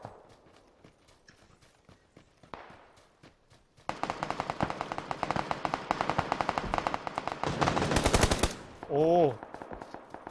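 Rapid bursts of PS4 Battlegrounds (PUBG) gunfire crackle in dense volleys after a quieter opening, loud and close, ending with a short rising electronic tone.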